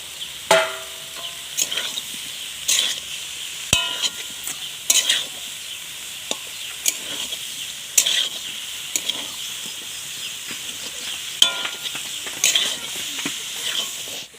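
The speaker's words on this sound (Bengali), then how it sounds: "এবার চিংড়িটা কড়ার মধ্যে দিয়ে দিচ্ছি। এবার ভালো করে কষে নেব।" Prawns being stir-fried in a wok (kadai) for a Bengali echor chingri dish, with a steady sizzle under repeated scraping strokes of a spatula at an uneven rhythm, close and clear, with no talking.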